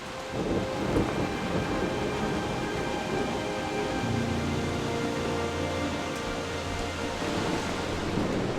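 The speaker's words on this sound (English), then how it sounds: "So when you hear thunder, it means lightning." Rain pours steadily on surfaces while thunder rumbles low and continuous beneath it, a deeper roll swelling in partway through and lingering to the end, with no voices.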